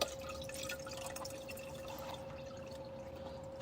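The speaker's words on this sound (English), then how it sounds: "we've put 8 cups of water in. We're going to fill it." Water being poured into the tank of a COMFYHOME windowless portable air conditioner, a steady close trickle and splash with a constant hum underneath, no talking.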